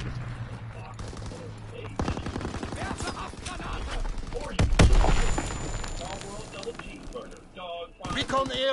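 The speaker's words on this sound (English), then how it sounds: "Fighter pilot inbound, strafing the target." Strafing gunfire from a fighter plane in a PS4 shooter, a loud burst of rapid fire and impact noise rising over constant game chatter and voices, with a sharp loud peak midway.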